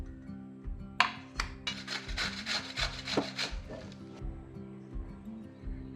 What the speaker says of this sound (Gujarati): હવે આને છીણી લેવાના છે.